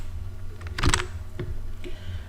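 A few quiet keystrokes click on a computer keyboard, spaced irregularly against faint background hum.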